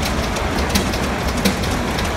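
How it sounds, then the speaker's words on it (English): A vintage Case tractor pulling a Case separator rolls past in a threshing reunion parade, a steady rumbling mechanical drone with faint clatter, continuous and moderately loud throughout with no talking. "The Case separator and the Case tractor coming through."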